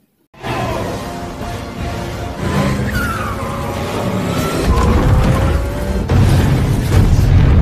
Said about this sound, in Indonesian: Setelah membuat kecelakaan yang mengakibatkan sebuah ledakan, Penguin merasa berhasil membuat Batman